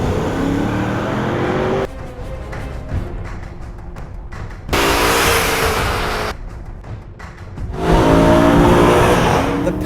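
A BMW E92 M3 with a high-revving 414-horsepower V8 roars loudly and close, surging through hard acceleration runs with rapid shifts and quick drops between pulls.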